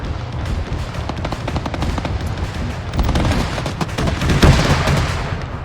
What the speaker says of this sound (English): They're shooting at Makarov because they got in the other tank